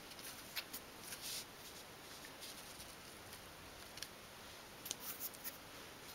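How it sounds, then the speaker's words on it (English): Quiet, crisp snips of small scissors cutting the corners of fabric on a 1/12th scale dolls house sofa, irregular short bursts close by with no talking. "along the top here we can snip our corners again. And you can actually snip that piece away."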